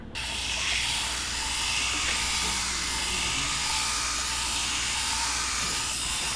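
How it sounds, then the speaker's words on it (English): A high-pitched flex shaft rotary tool whines continuously as it sands a titanium and gold ring, a steady abrasive hiss that stays loud and close throughout. "after a lot of sanding with the flex shaft rotary tool, we finally have the ring to size"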